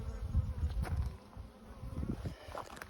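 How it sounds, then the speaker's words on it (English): Honeybees buzz densely at a hive that has swarmed, a close, wavering hum that swells and dips with individual bees passing near, steady throughout with no talking. "There's a whole bunch of bees in there"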